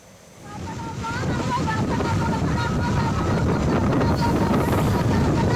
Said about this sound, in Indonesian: dapat Anda saksikan saat angin puting beliung menerjang 3 desa di Pati, Jawa Tengah